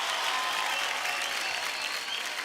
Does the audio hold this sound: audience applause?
yes